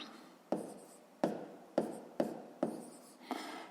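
A pen writing numbers by hand on paper, six short scratchy strokes spaced about half a second apart, close and quiet.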